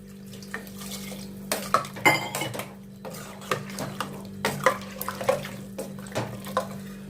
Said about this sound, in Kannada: ಇವಾಗ ಸ್ವಲ್ಪ ನೀರು ಹಾಕೊಳ್ಳೋಣ ಇದಕ್ಕೆ